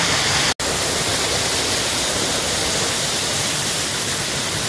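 Rushing water of a waterfall where people swim, a steady broadband roar filling the whole clip at close range, broken only by a brief gap near the start.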